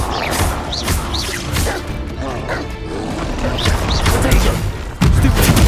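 Confringo spell blasts in Hogwarts Legacy go off in a running fight, with bursts, crashes and impacts layered over continuous game noise, loud and close, and a sudden heavier burst near the end.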